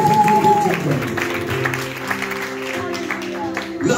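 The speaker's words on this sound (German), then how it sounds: "Wenn wir Jesus einen Applaus geben können." Congregation applauding during a church service, clapping mixed with sustained musical tones and a voice, moderately loud and continuous.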